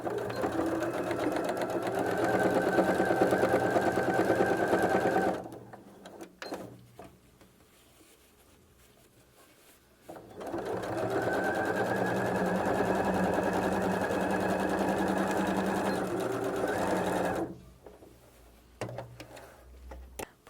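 A sewing machine stitches down the lining seam of a double wallet in two long runs, about five and seven seconds each, with a quiet pause between them and a brief burst at the end. The machine whirs steadily and close up.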